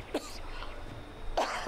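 Two short coughs from an elderly woman, one near the start and another about a second later, with quiet background noise in between.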